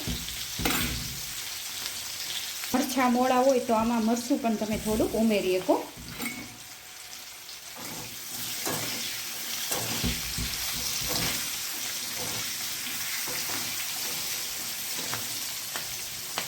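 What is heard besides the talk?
green chillies frying on low gas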